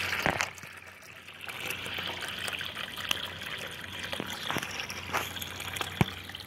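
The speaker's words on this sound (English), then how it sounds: "So let's start off by flushing this one." Water trickles and splashes steadily from a homemade toilet being flushed into a drain cover, a continuous close gurgling flow with small irregular splashes and one sharp knock near the end.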